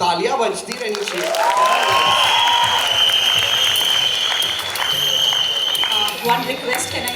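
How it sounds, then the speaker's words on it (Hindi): Steady applause from a crowd at the Dobaaraa film event fills the space, loud and continuous, with a voice speaking over it and a faint tone sustained underneath. "तालियां बजती रहनी चाहिए"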